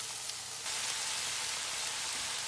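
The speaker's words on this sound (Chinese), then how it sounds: "豆腐干，还有这些笋丁，然后还有这个榨菜和毛豆，把它倒下去炒一段时间。" Dried tofu, bamboo shoots, pickled mustard and edamame stir-frying in a hot pan, producing a dense, steady sizzle that jumps louder partway through and then holds close and even.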